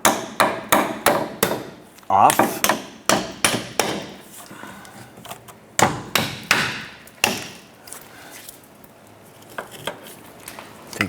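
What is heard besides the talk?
hammer tapping Impala sway bar bracket off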